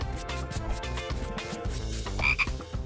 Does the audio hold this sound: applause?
no